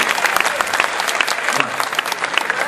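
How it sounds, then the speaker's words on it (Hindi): A hall audience claps loudly for a poet at a live poetry recital, a thick, even roar of many hands close by, sustained without pause for the whole stretch. "आप ताली बजाएं।"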